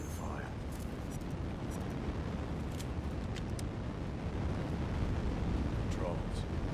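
Fire burning in the Mad Max game, a dense, steady roaring rumble that stays loud and constant throughout, with faint higher crackles over it.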